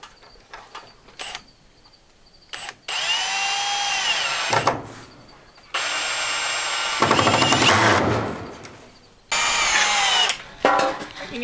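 A power drill drives screws into wooden rafters or framing in bursts of a few seconds each, with loud whirring runs separated by pauses and brief voices nearby.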